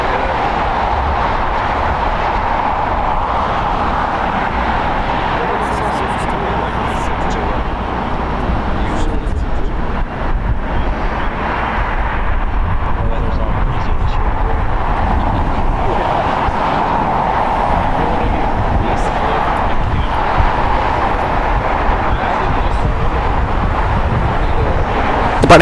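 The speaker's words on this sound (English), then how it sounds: "Departing here is JetBlue Airlines flight 424. It's an Airbus A321neo, 2 years old." A JetBlue Airbus A321neo departs at LAX, its jet roar a steady, loud broadband rumble that holds throughout the stretch, with a voice speaking over it.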